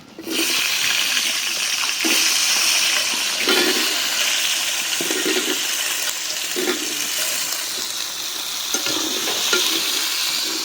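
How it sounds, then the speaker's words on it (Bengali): Potatoes fry in a pan with a continuous loud hiss and crackle of hot oil, broken by a few soft, regular stirring scrapes, close up with no talking. "এখন ভাইজে নিব আলু"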